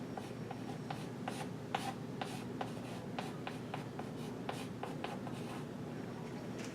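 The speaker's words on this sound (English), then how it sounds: "let's write down the equation again." Pen or pencil scratching out an equation on paper or a board, a steady run of short strokes and ticks at close range over a quiet room hum.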